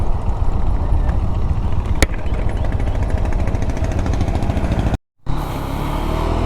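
Motorcycle nicknamed Demon being ridden, its engine a steady loud drone throughout with a brief dropout near the end, no talking.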